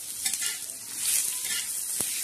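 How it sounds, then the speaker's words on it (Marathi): Crushed coconut and crushed garlic dry-roasting in a pan for a black masala, giving a steady soft sizzle and crackle with light stirring scrapes and one sharp tap near the end. "तर आता खोबरं आणि लसूण थोडासा ठेचलेला तो चांगला भाजणार आहे."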